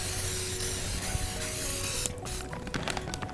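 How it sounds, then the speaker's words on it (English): Spray butter hisses from a can onto a skillet in one steady burst of about two seconds, close by, followed by light clattering and rubbing sounds. "we'll take that spray butter again. You always want to grease your skillet."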